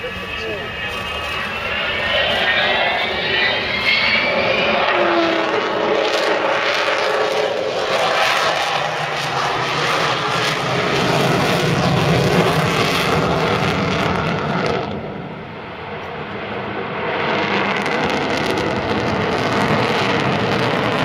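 A jet aircraft powered by four Olympus 202 two-shaft turbojets flies past, a loud, sustained roar with a whining tone that shifts in pitch, swells, dips briefly and rises again at an air display, with a voice talking over it.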